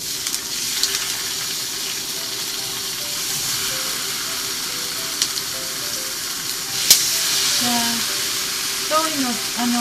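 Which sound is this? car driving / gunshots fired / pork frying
pork frying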